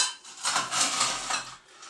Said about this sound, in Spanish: Echáis un poco de hielo